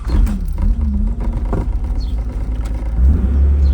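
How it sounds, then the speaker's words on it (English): A Nissan 300ZX engine starts up and settles into a deep, loud idle rumble, with a brief rise in revs as it catches and a steady low drone afterward. "I'll go ahead and turn the vehicle on here so you can see everything updating"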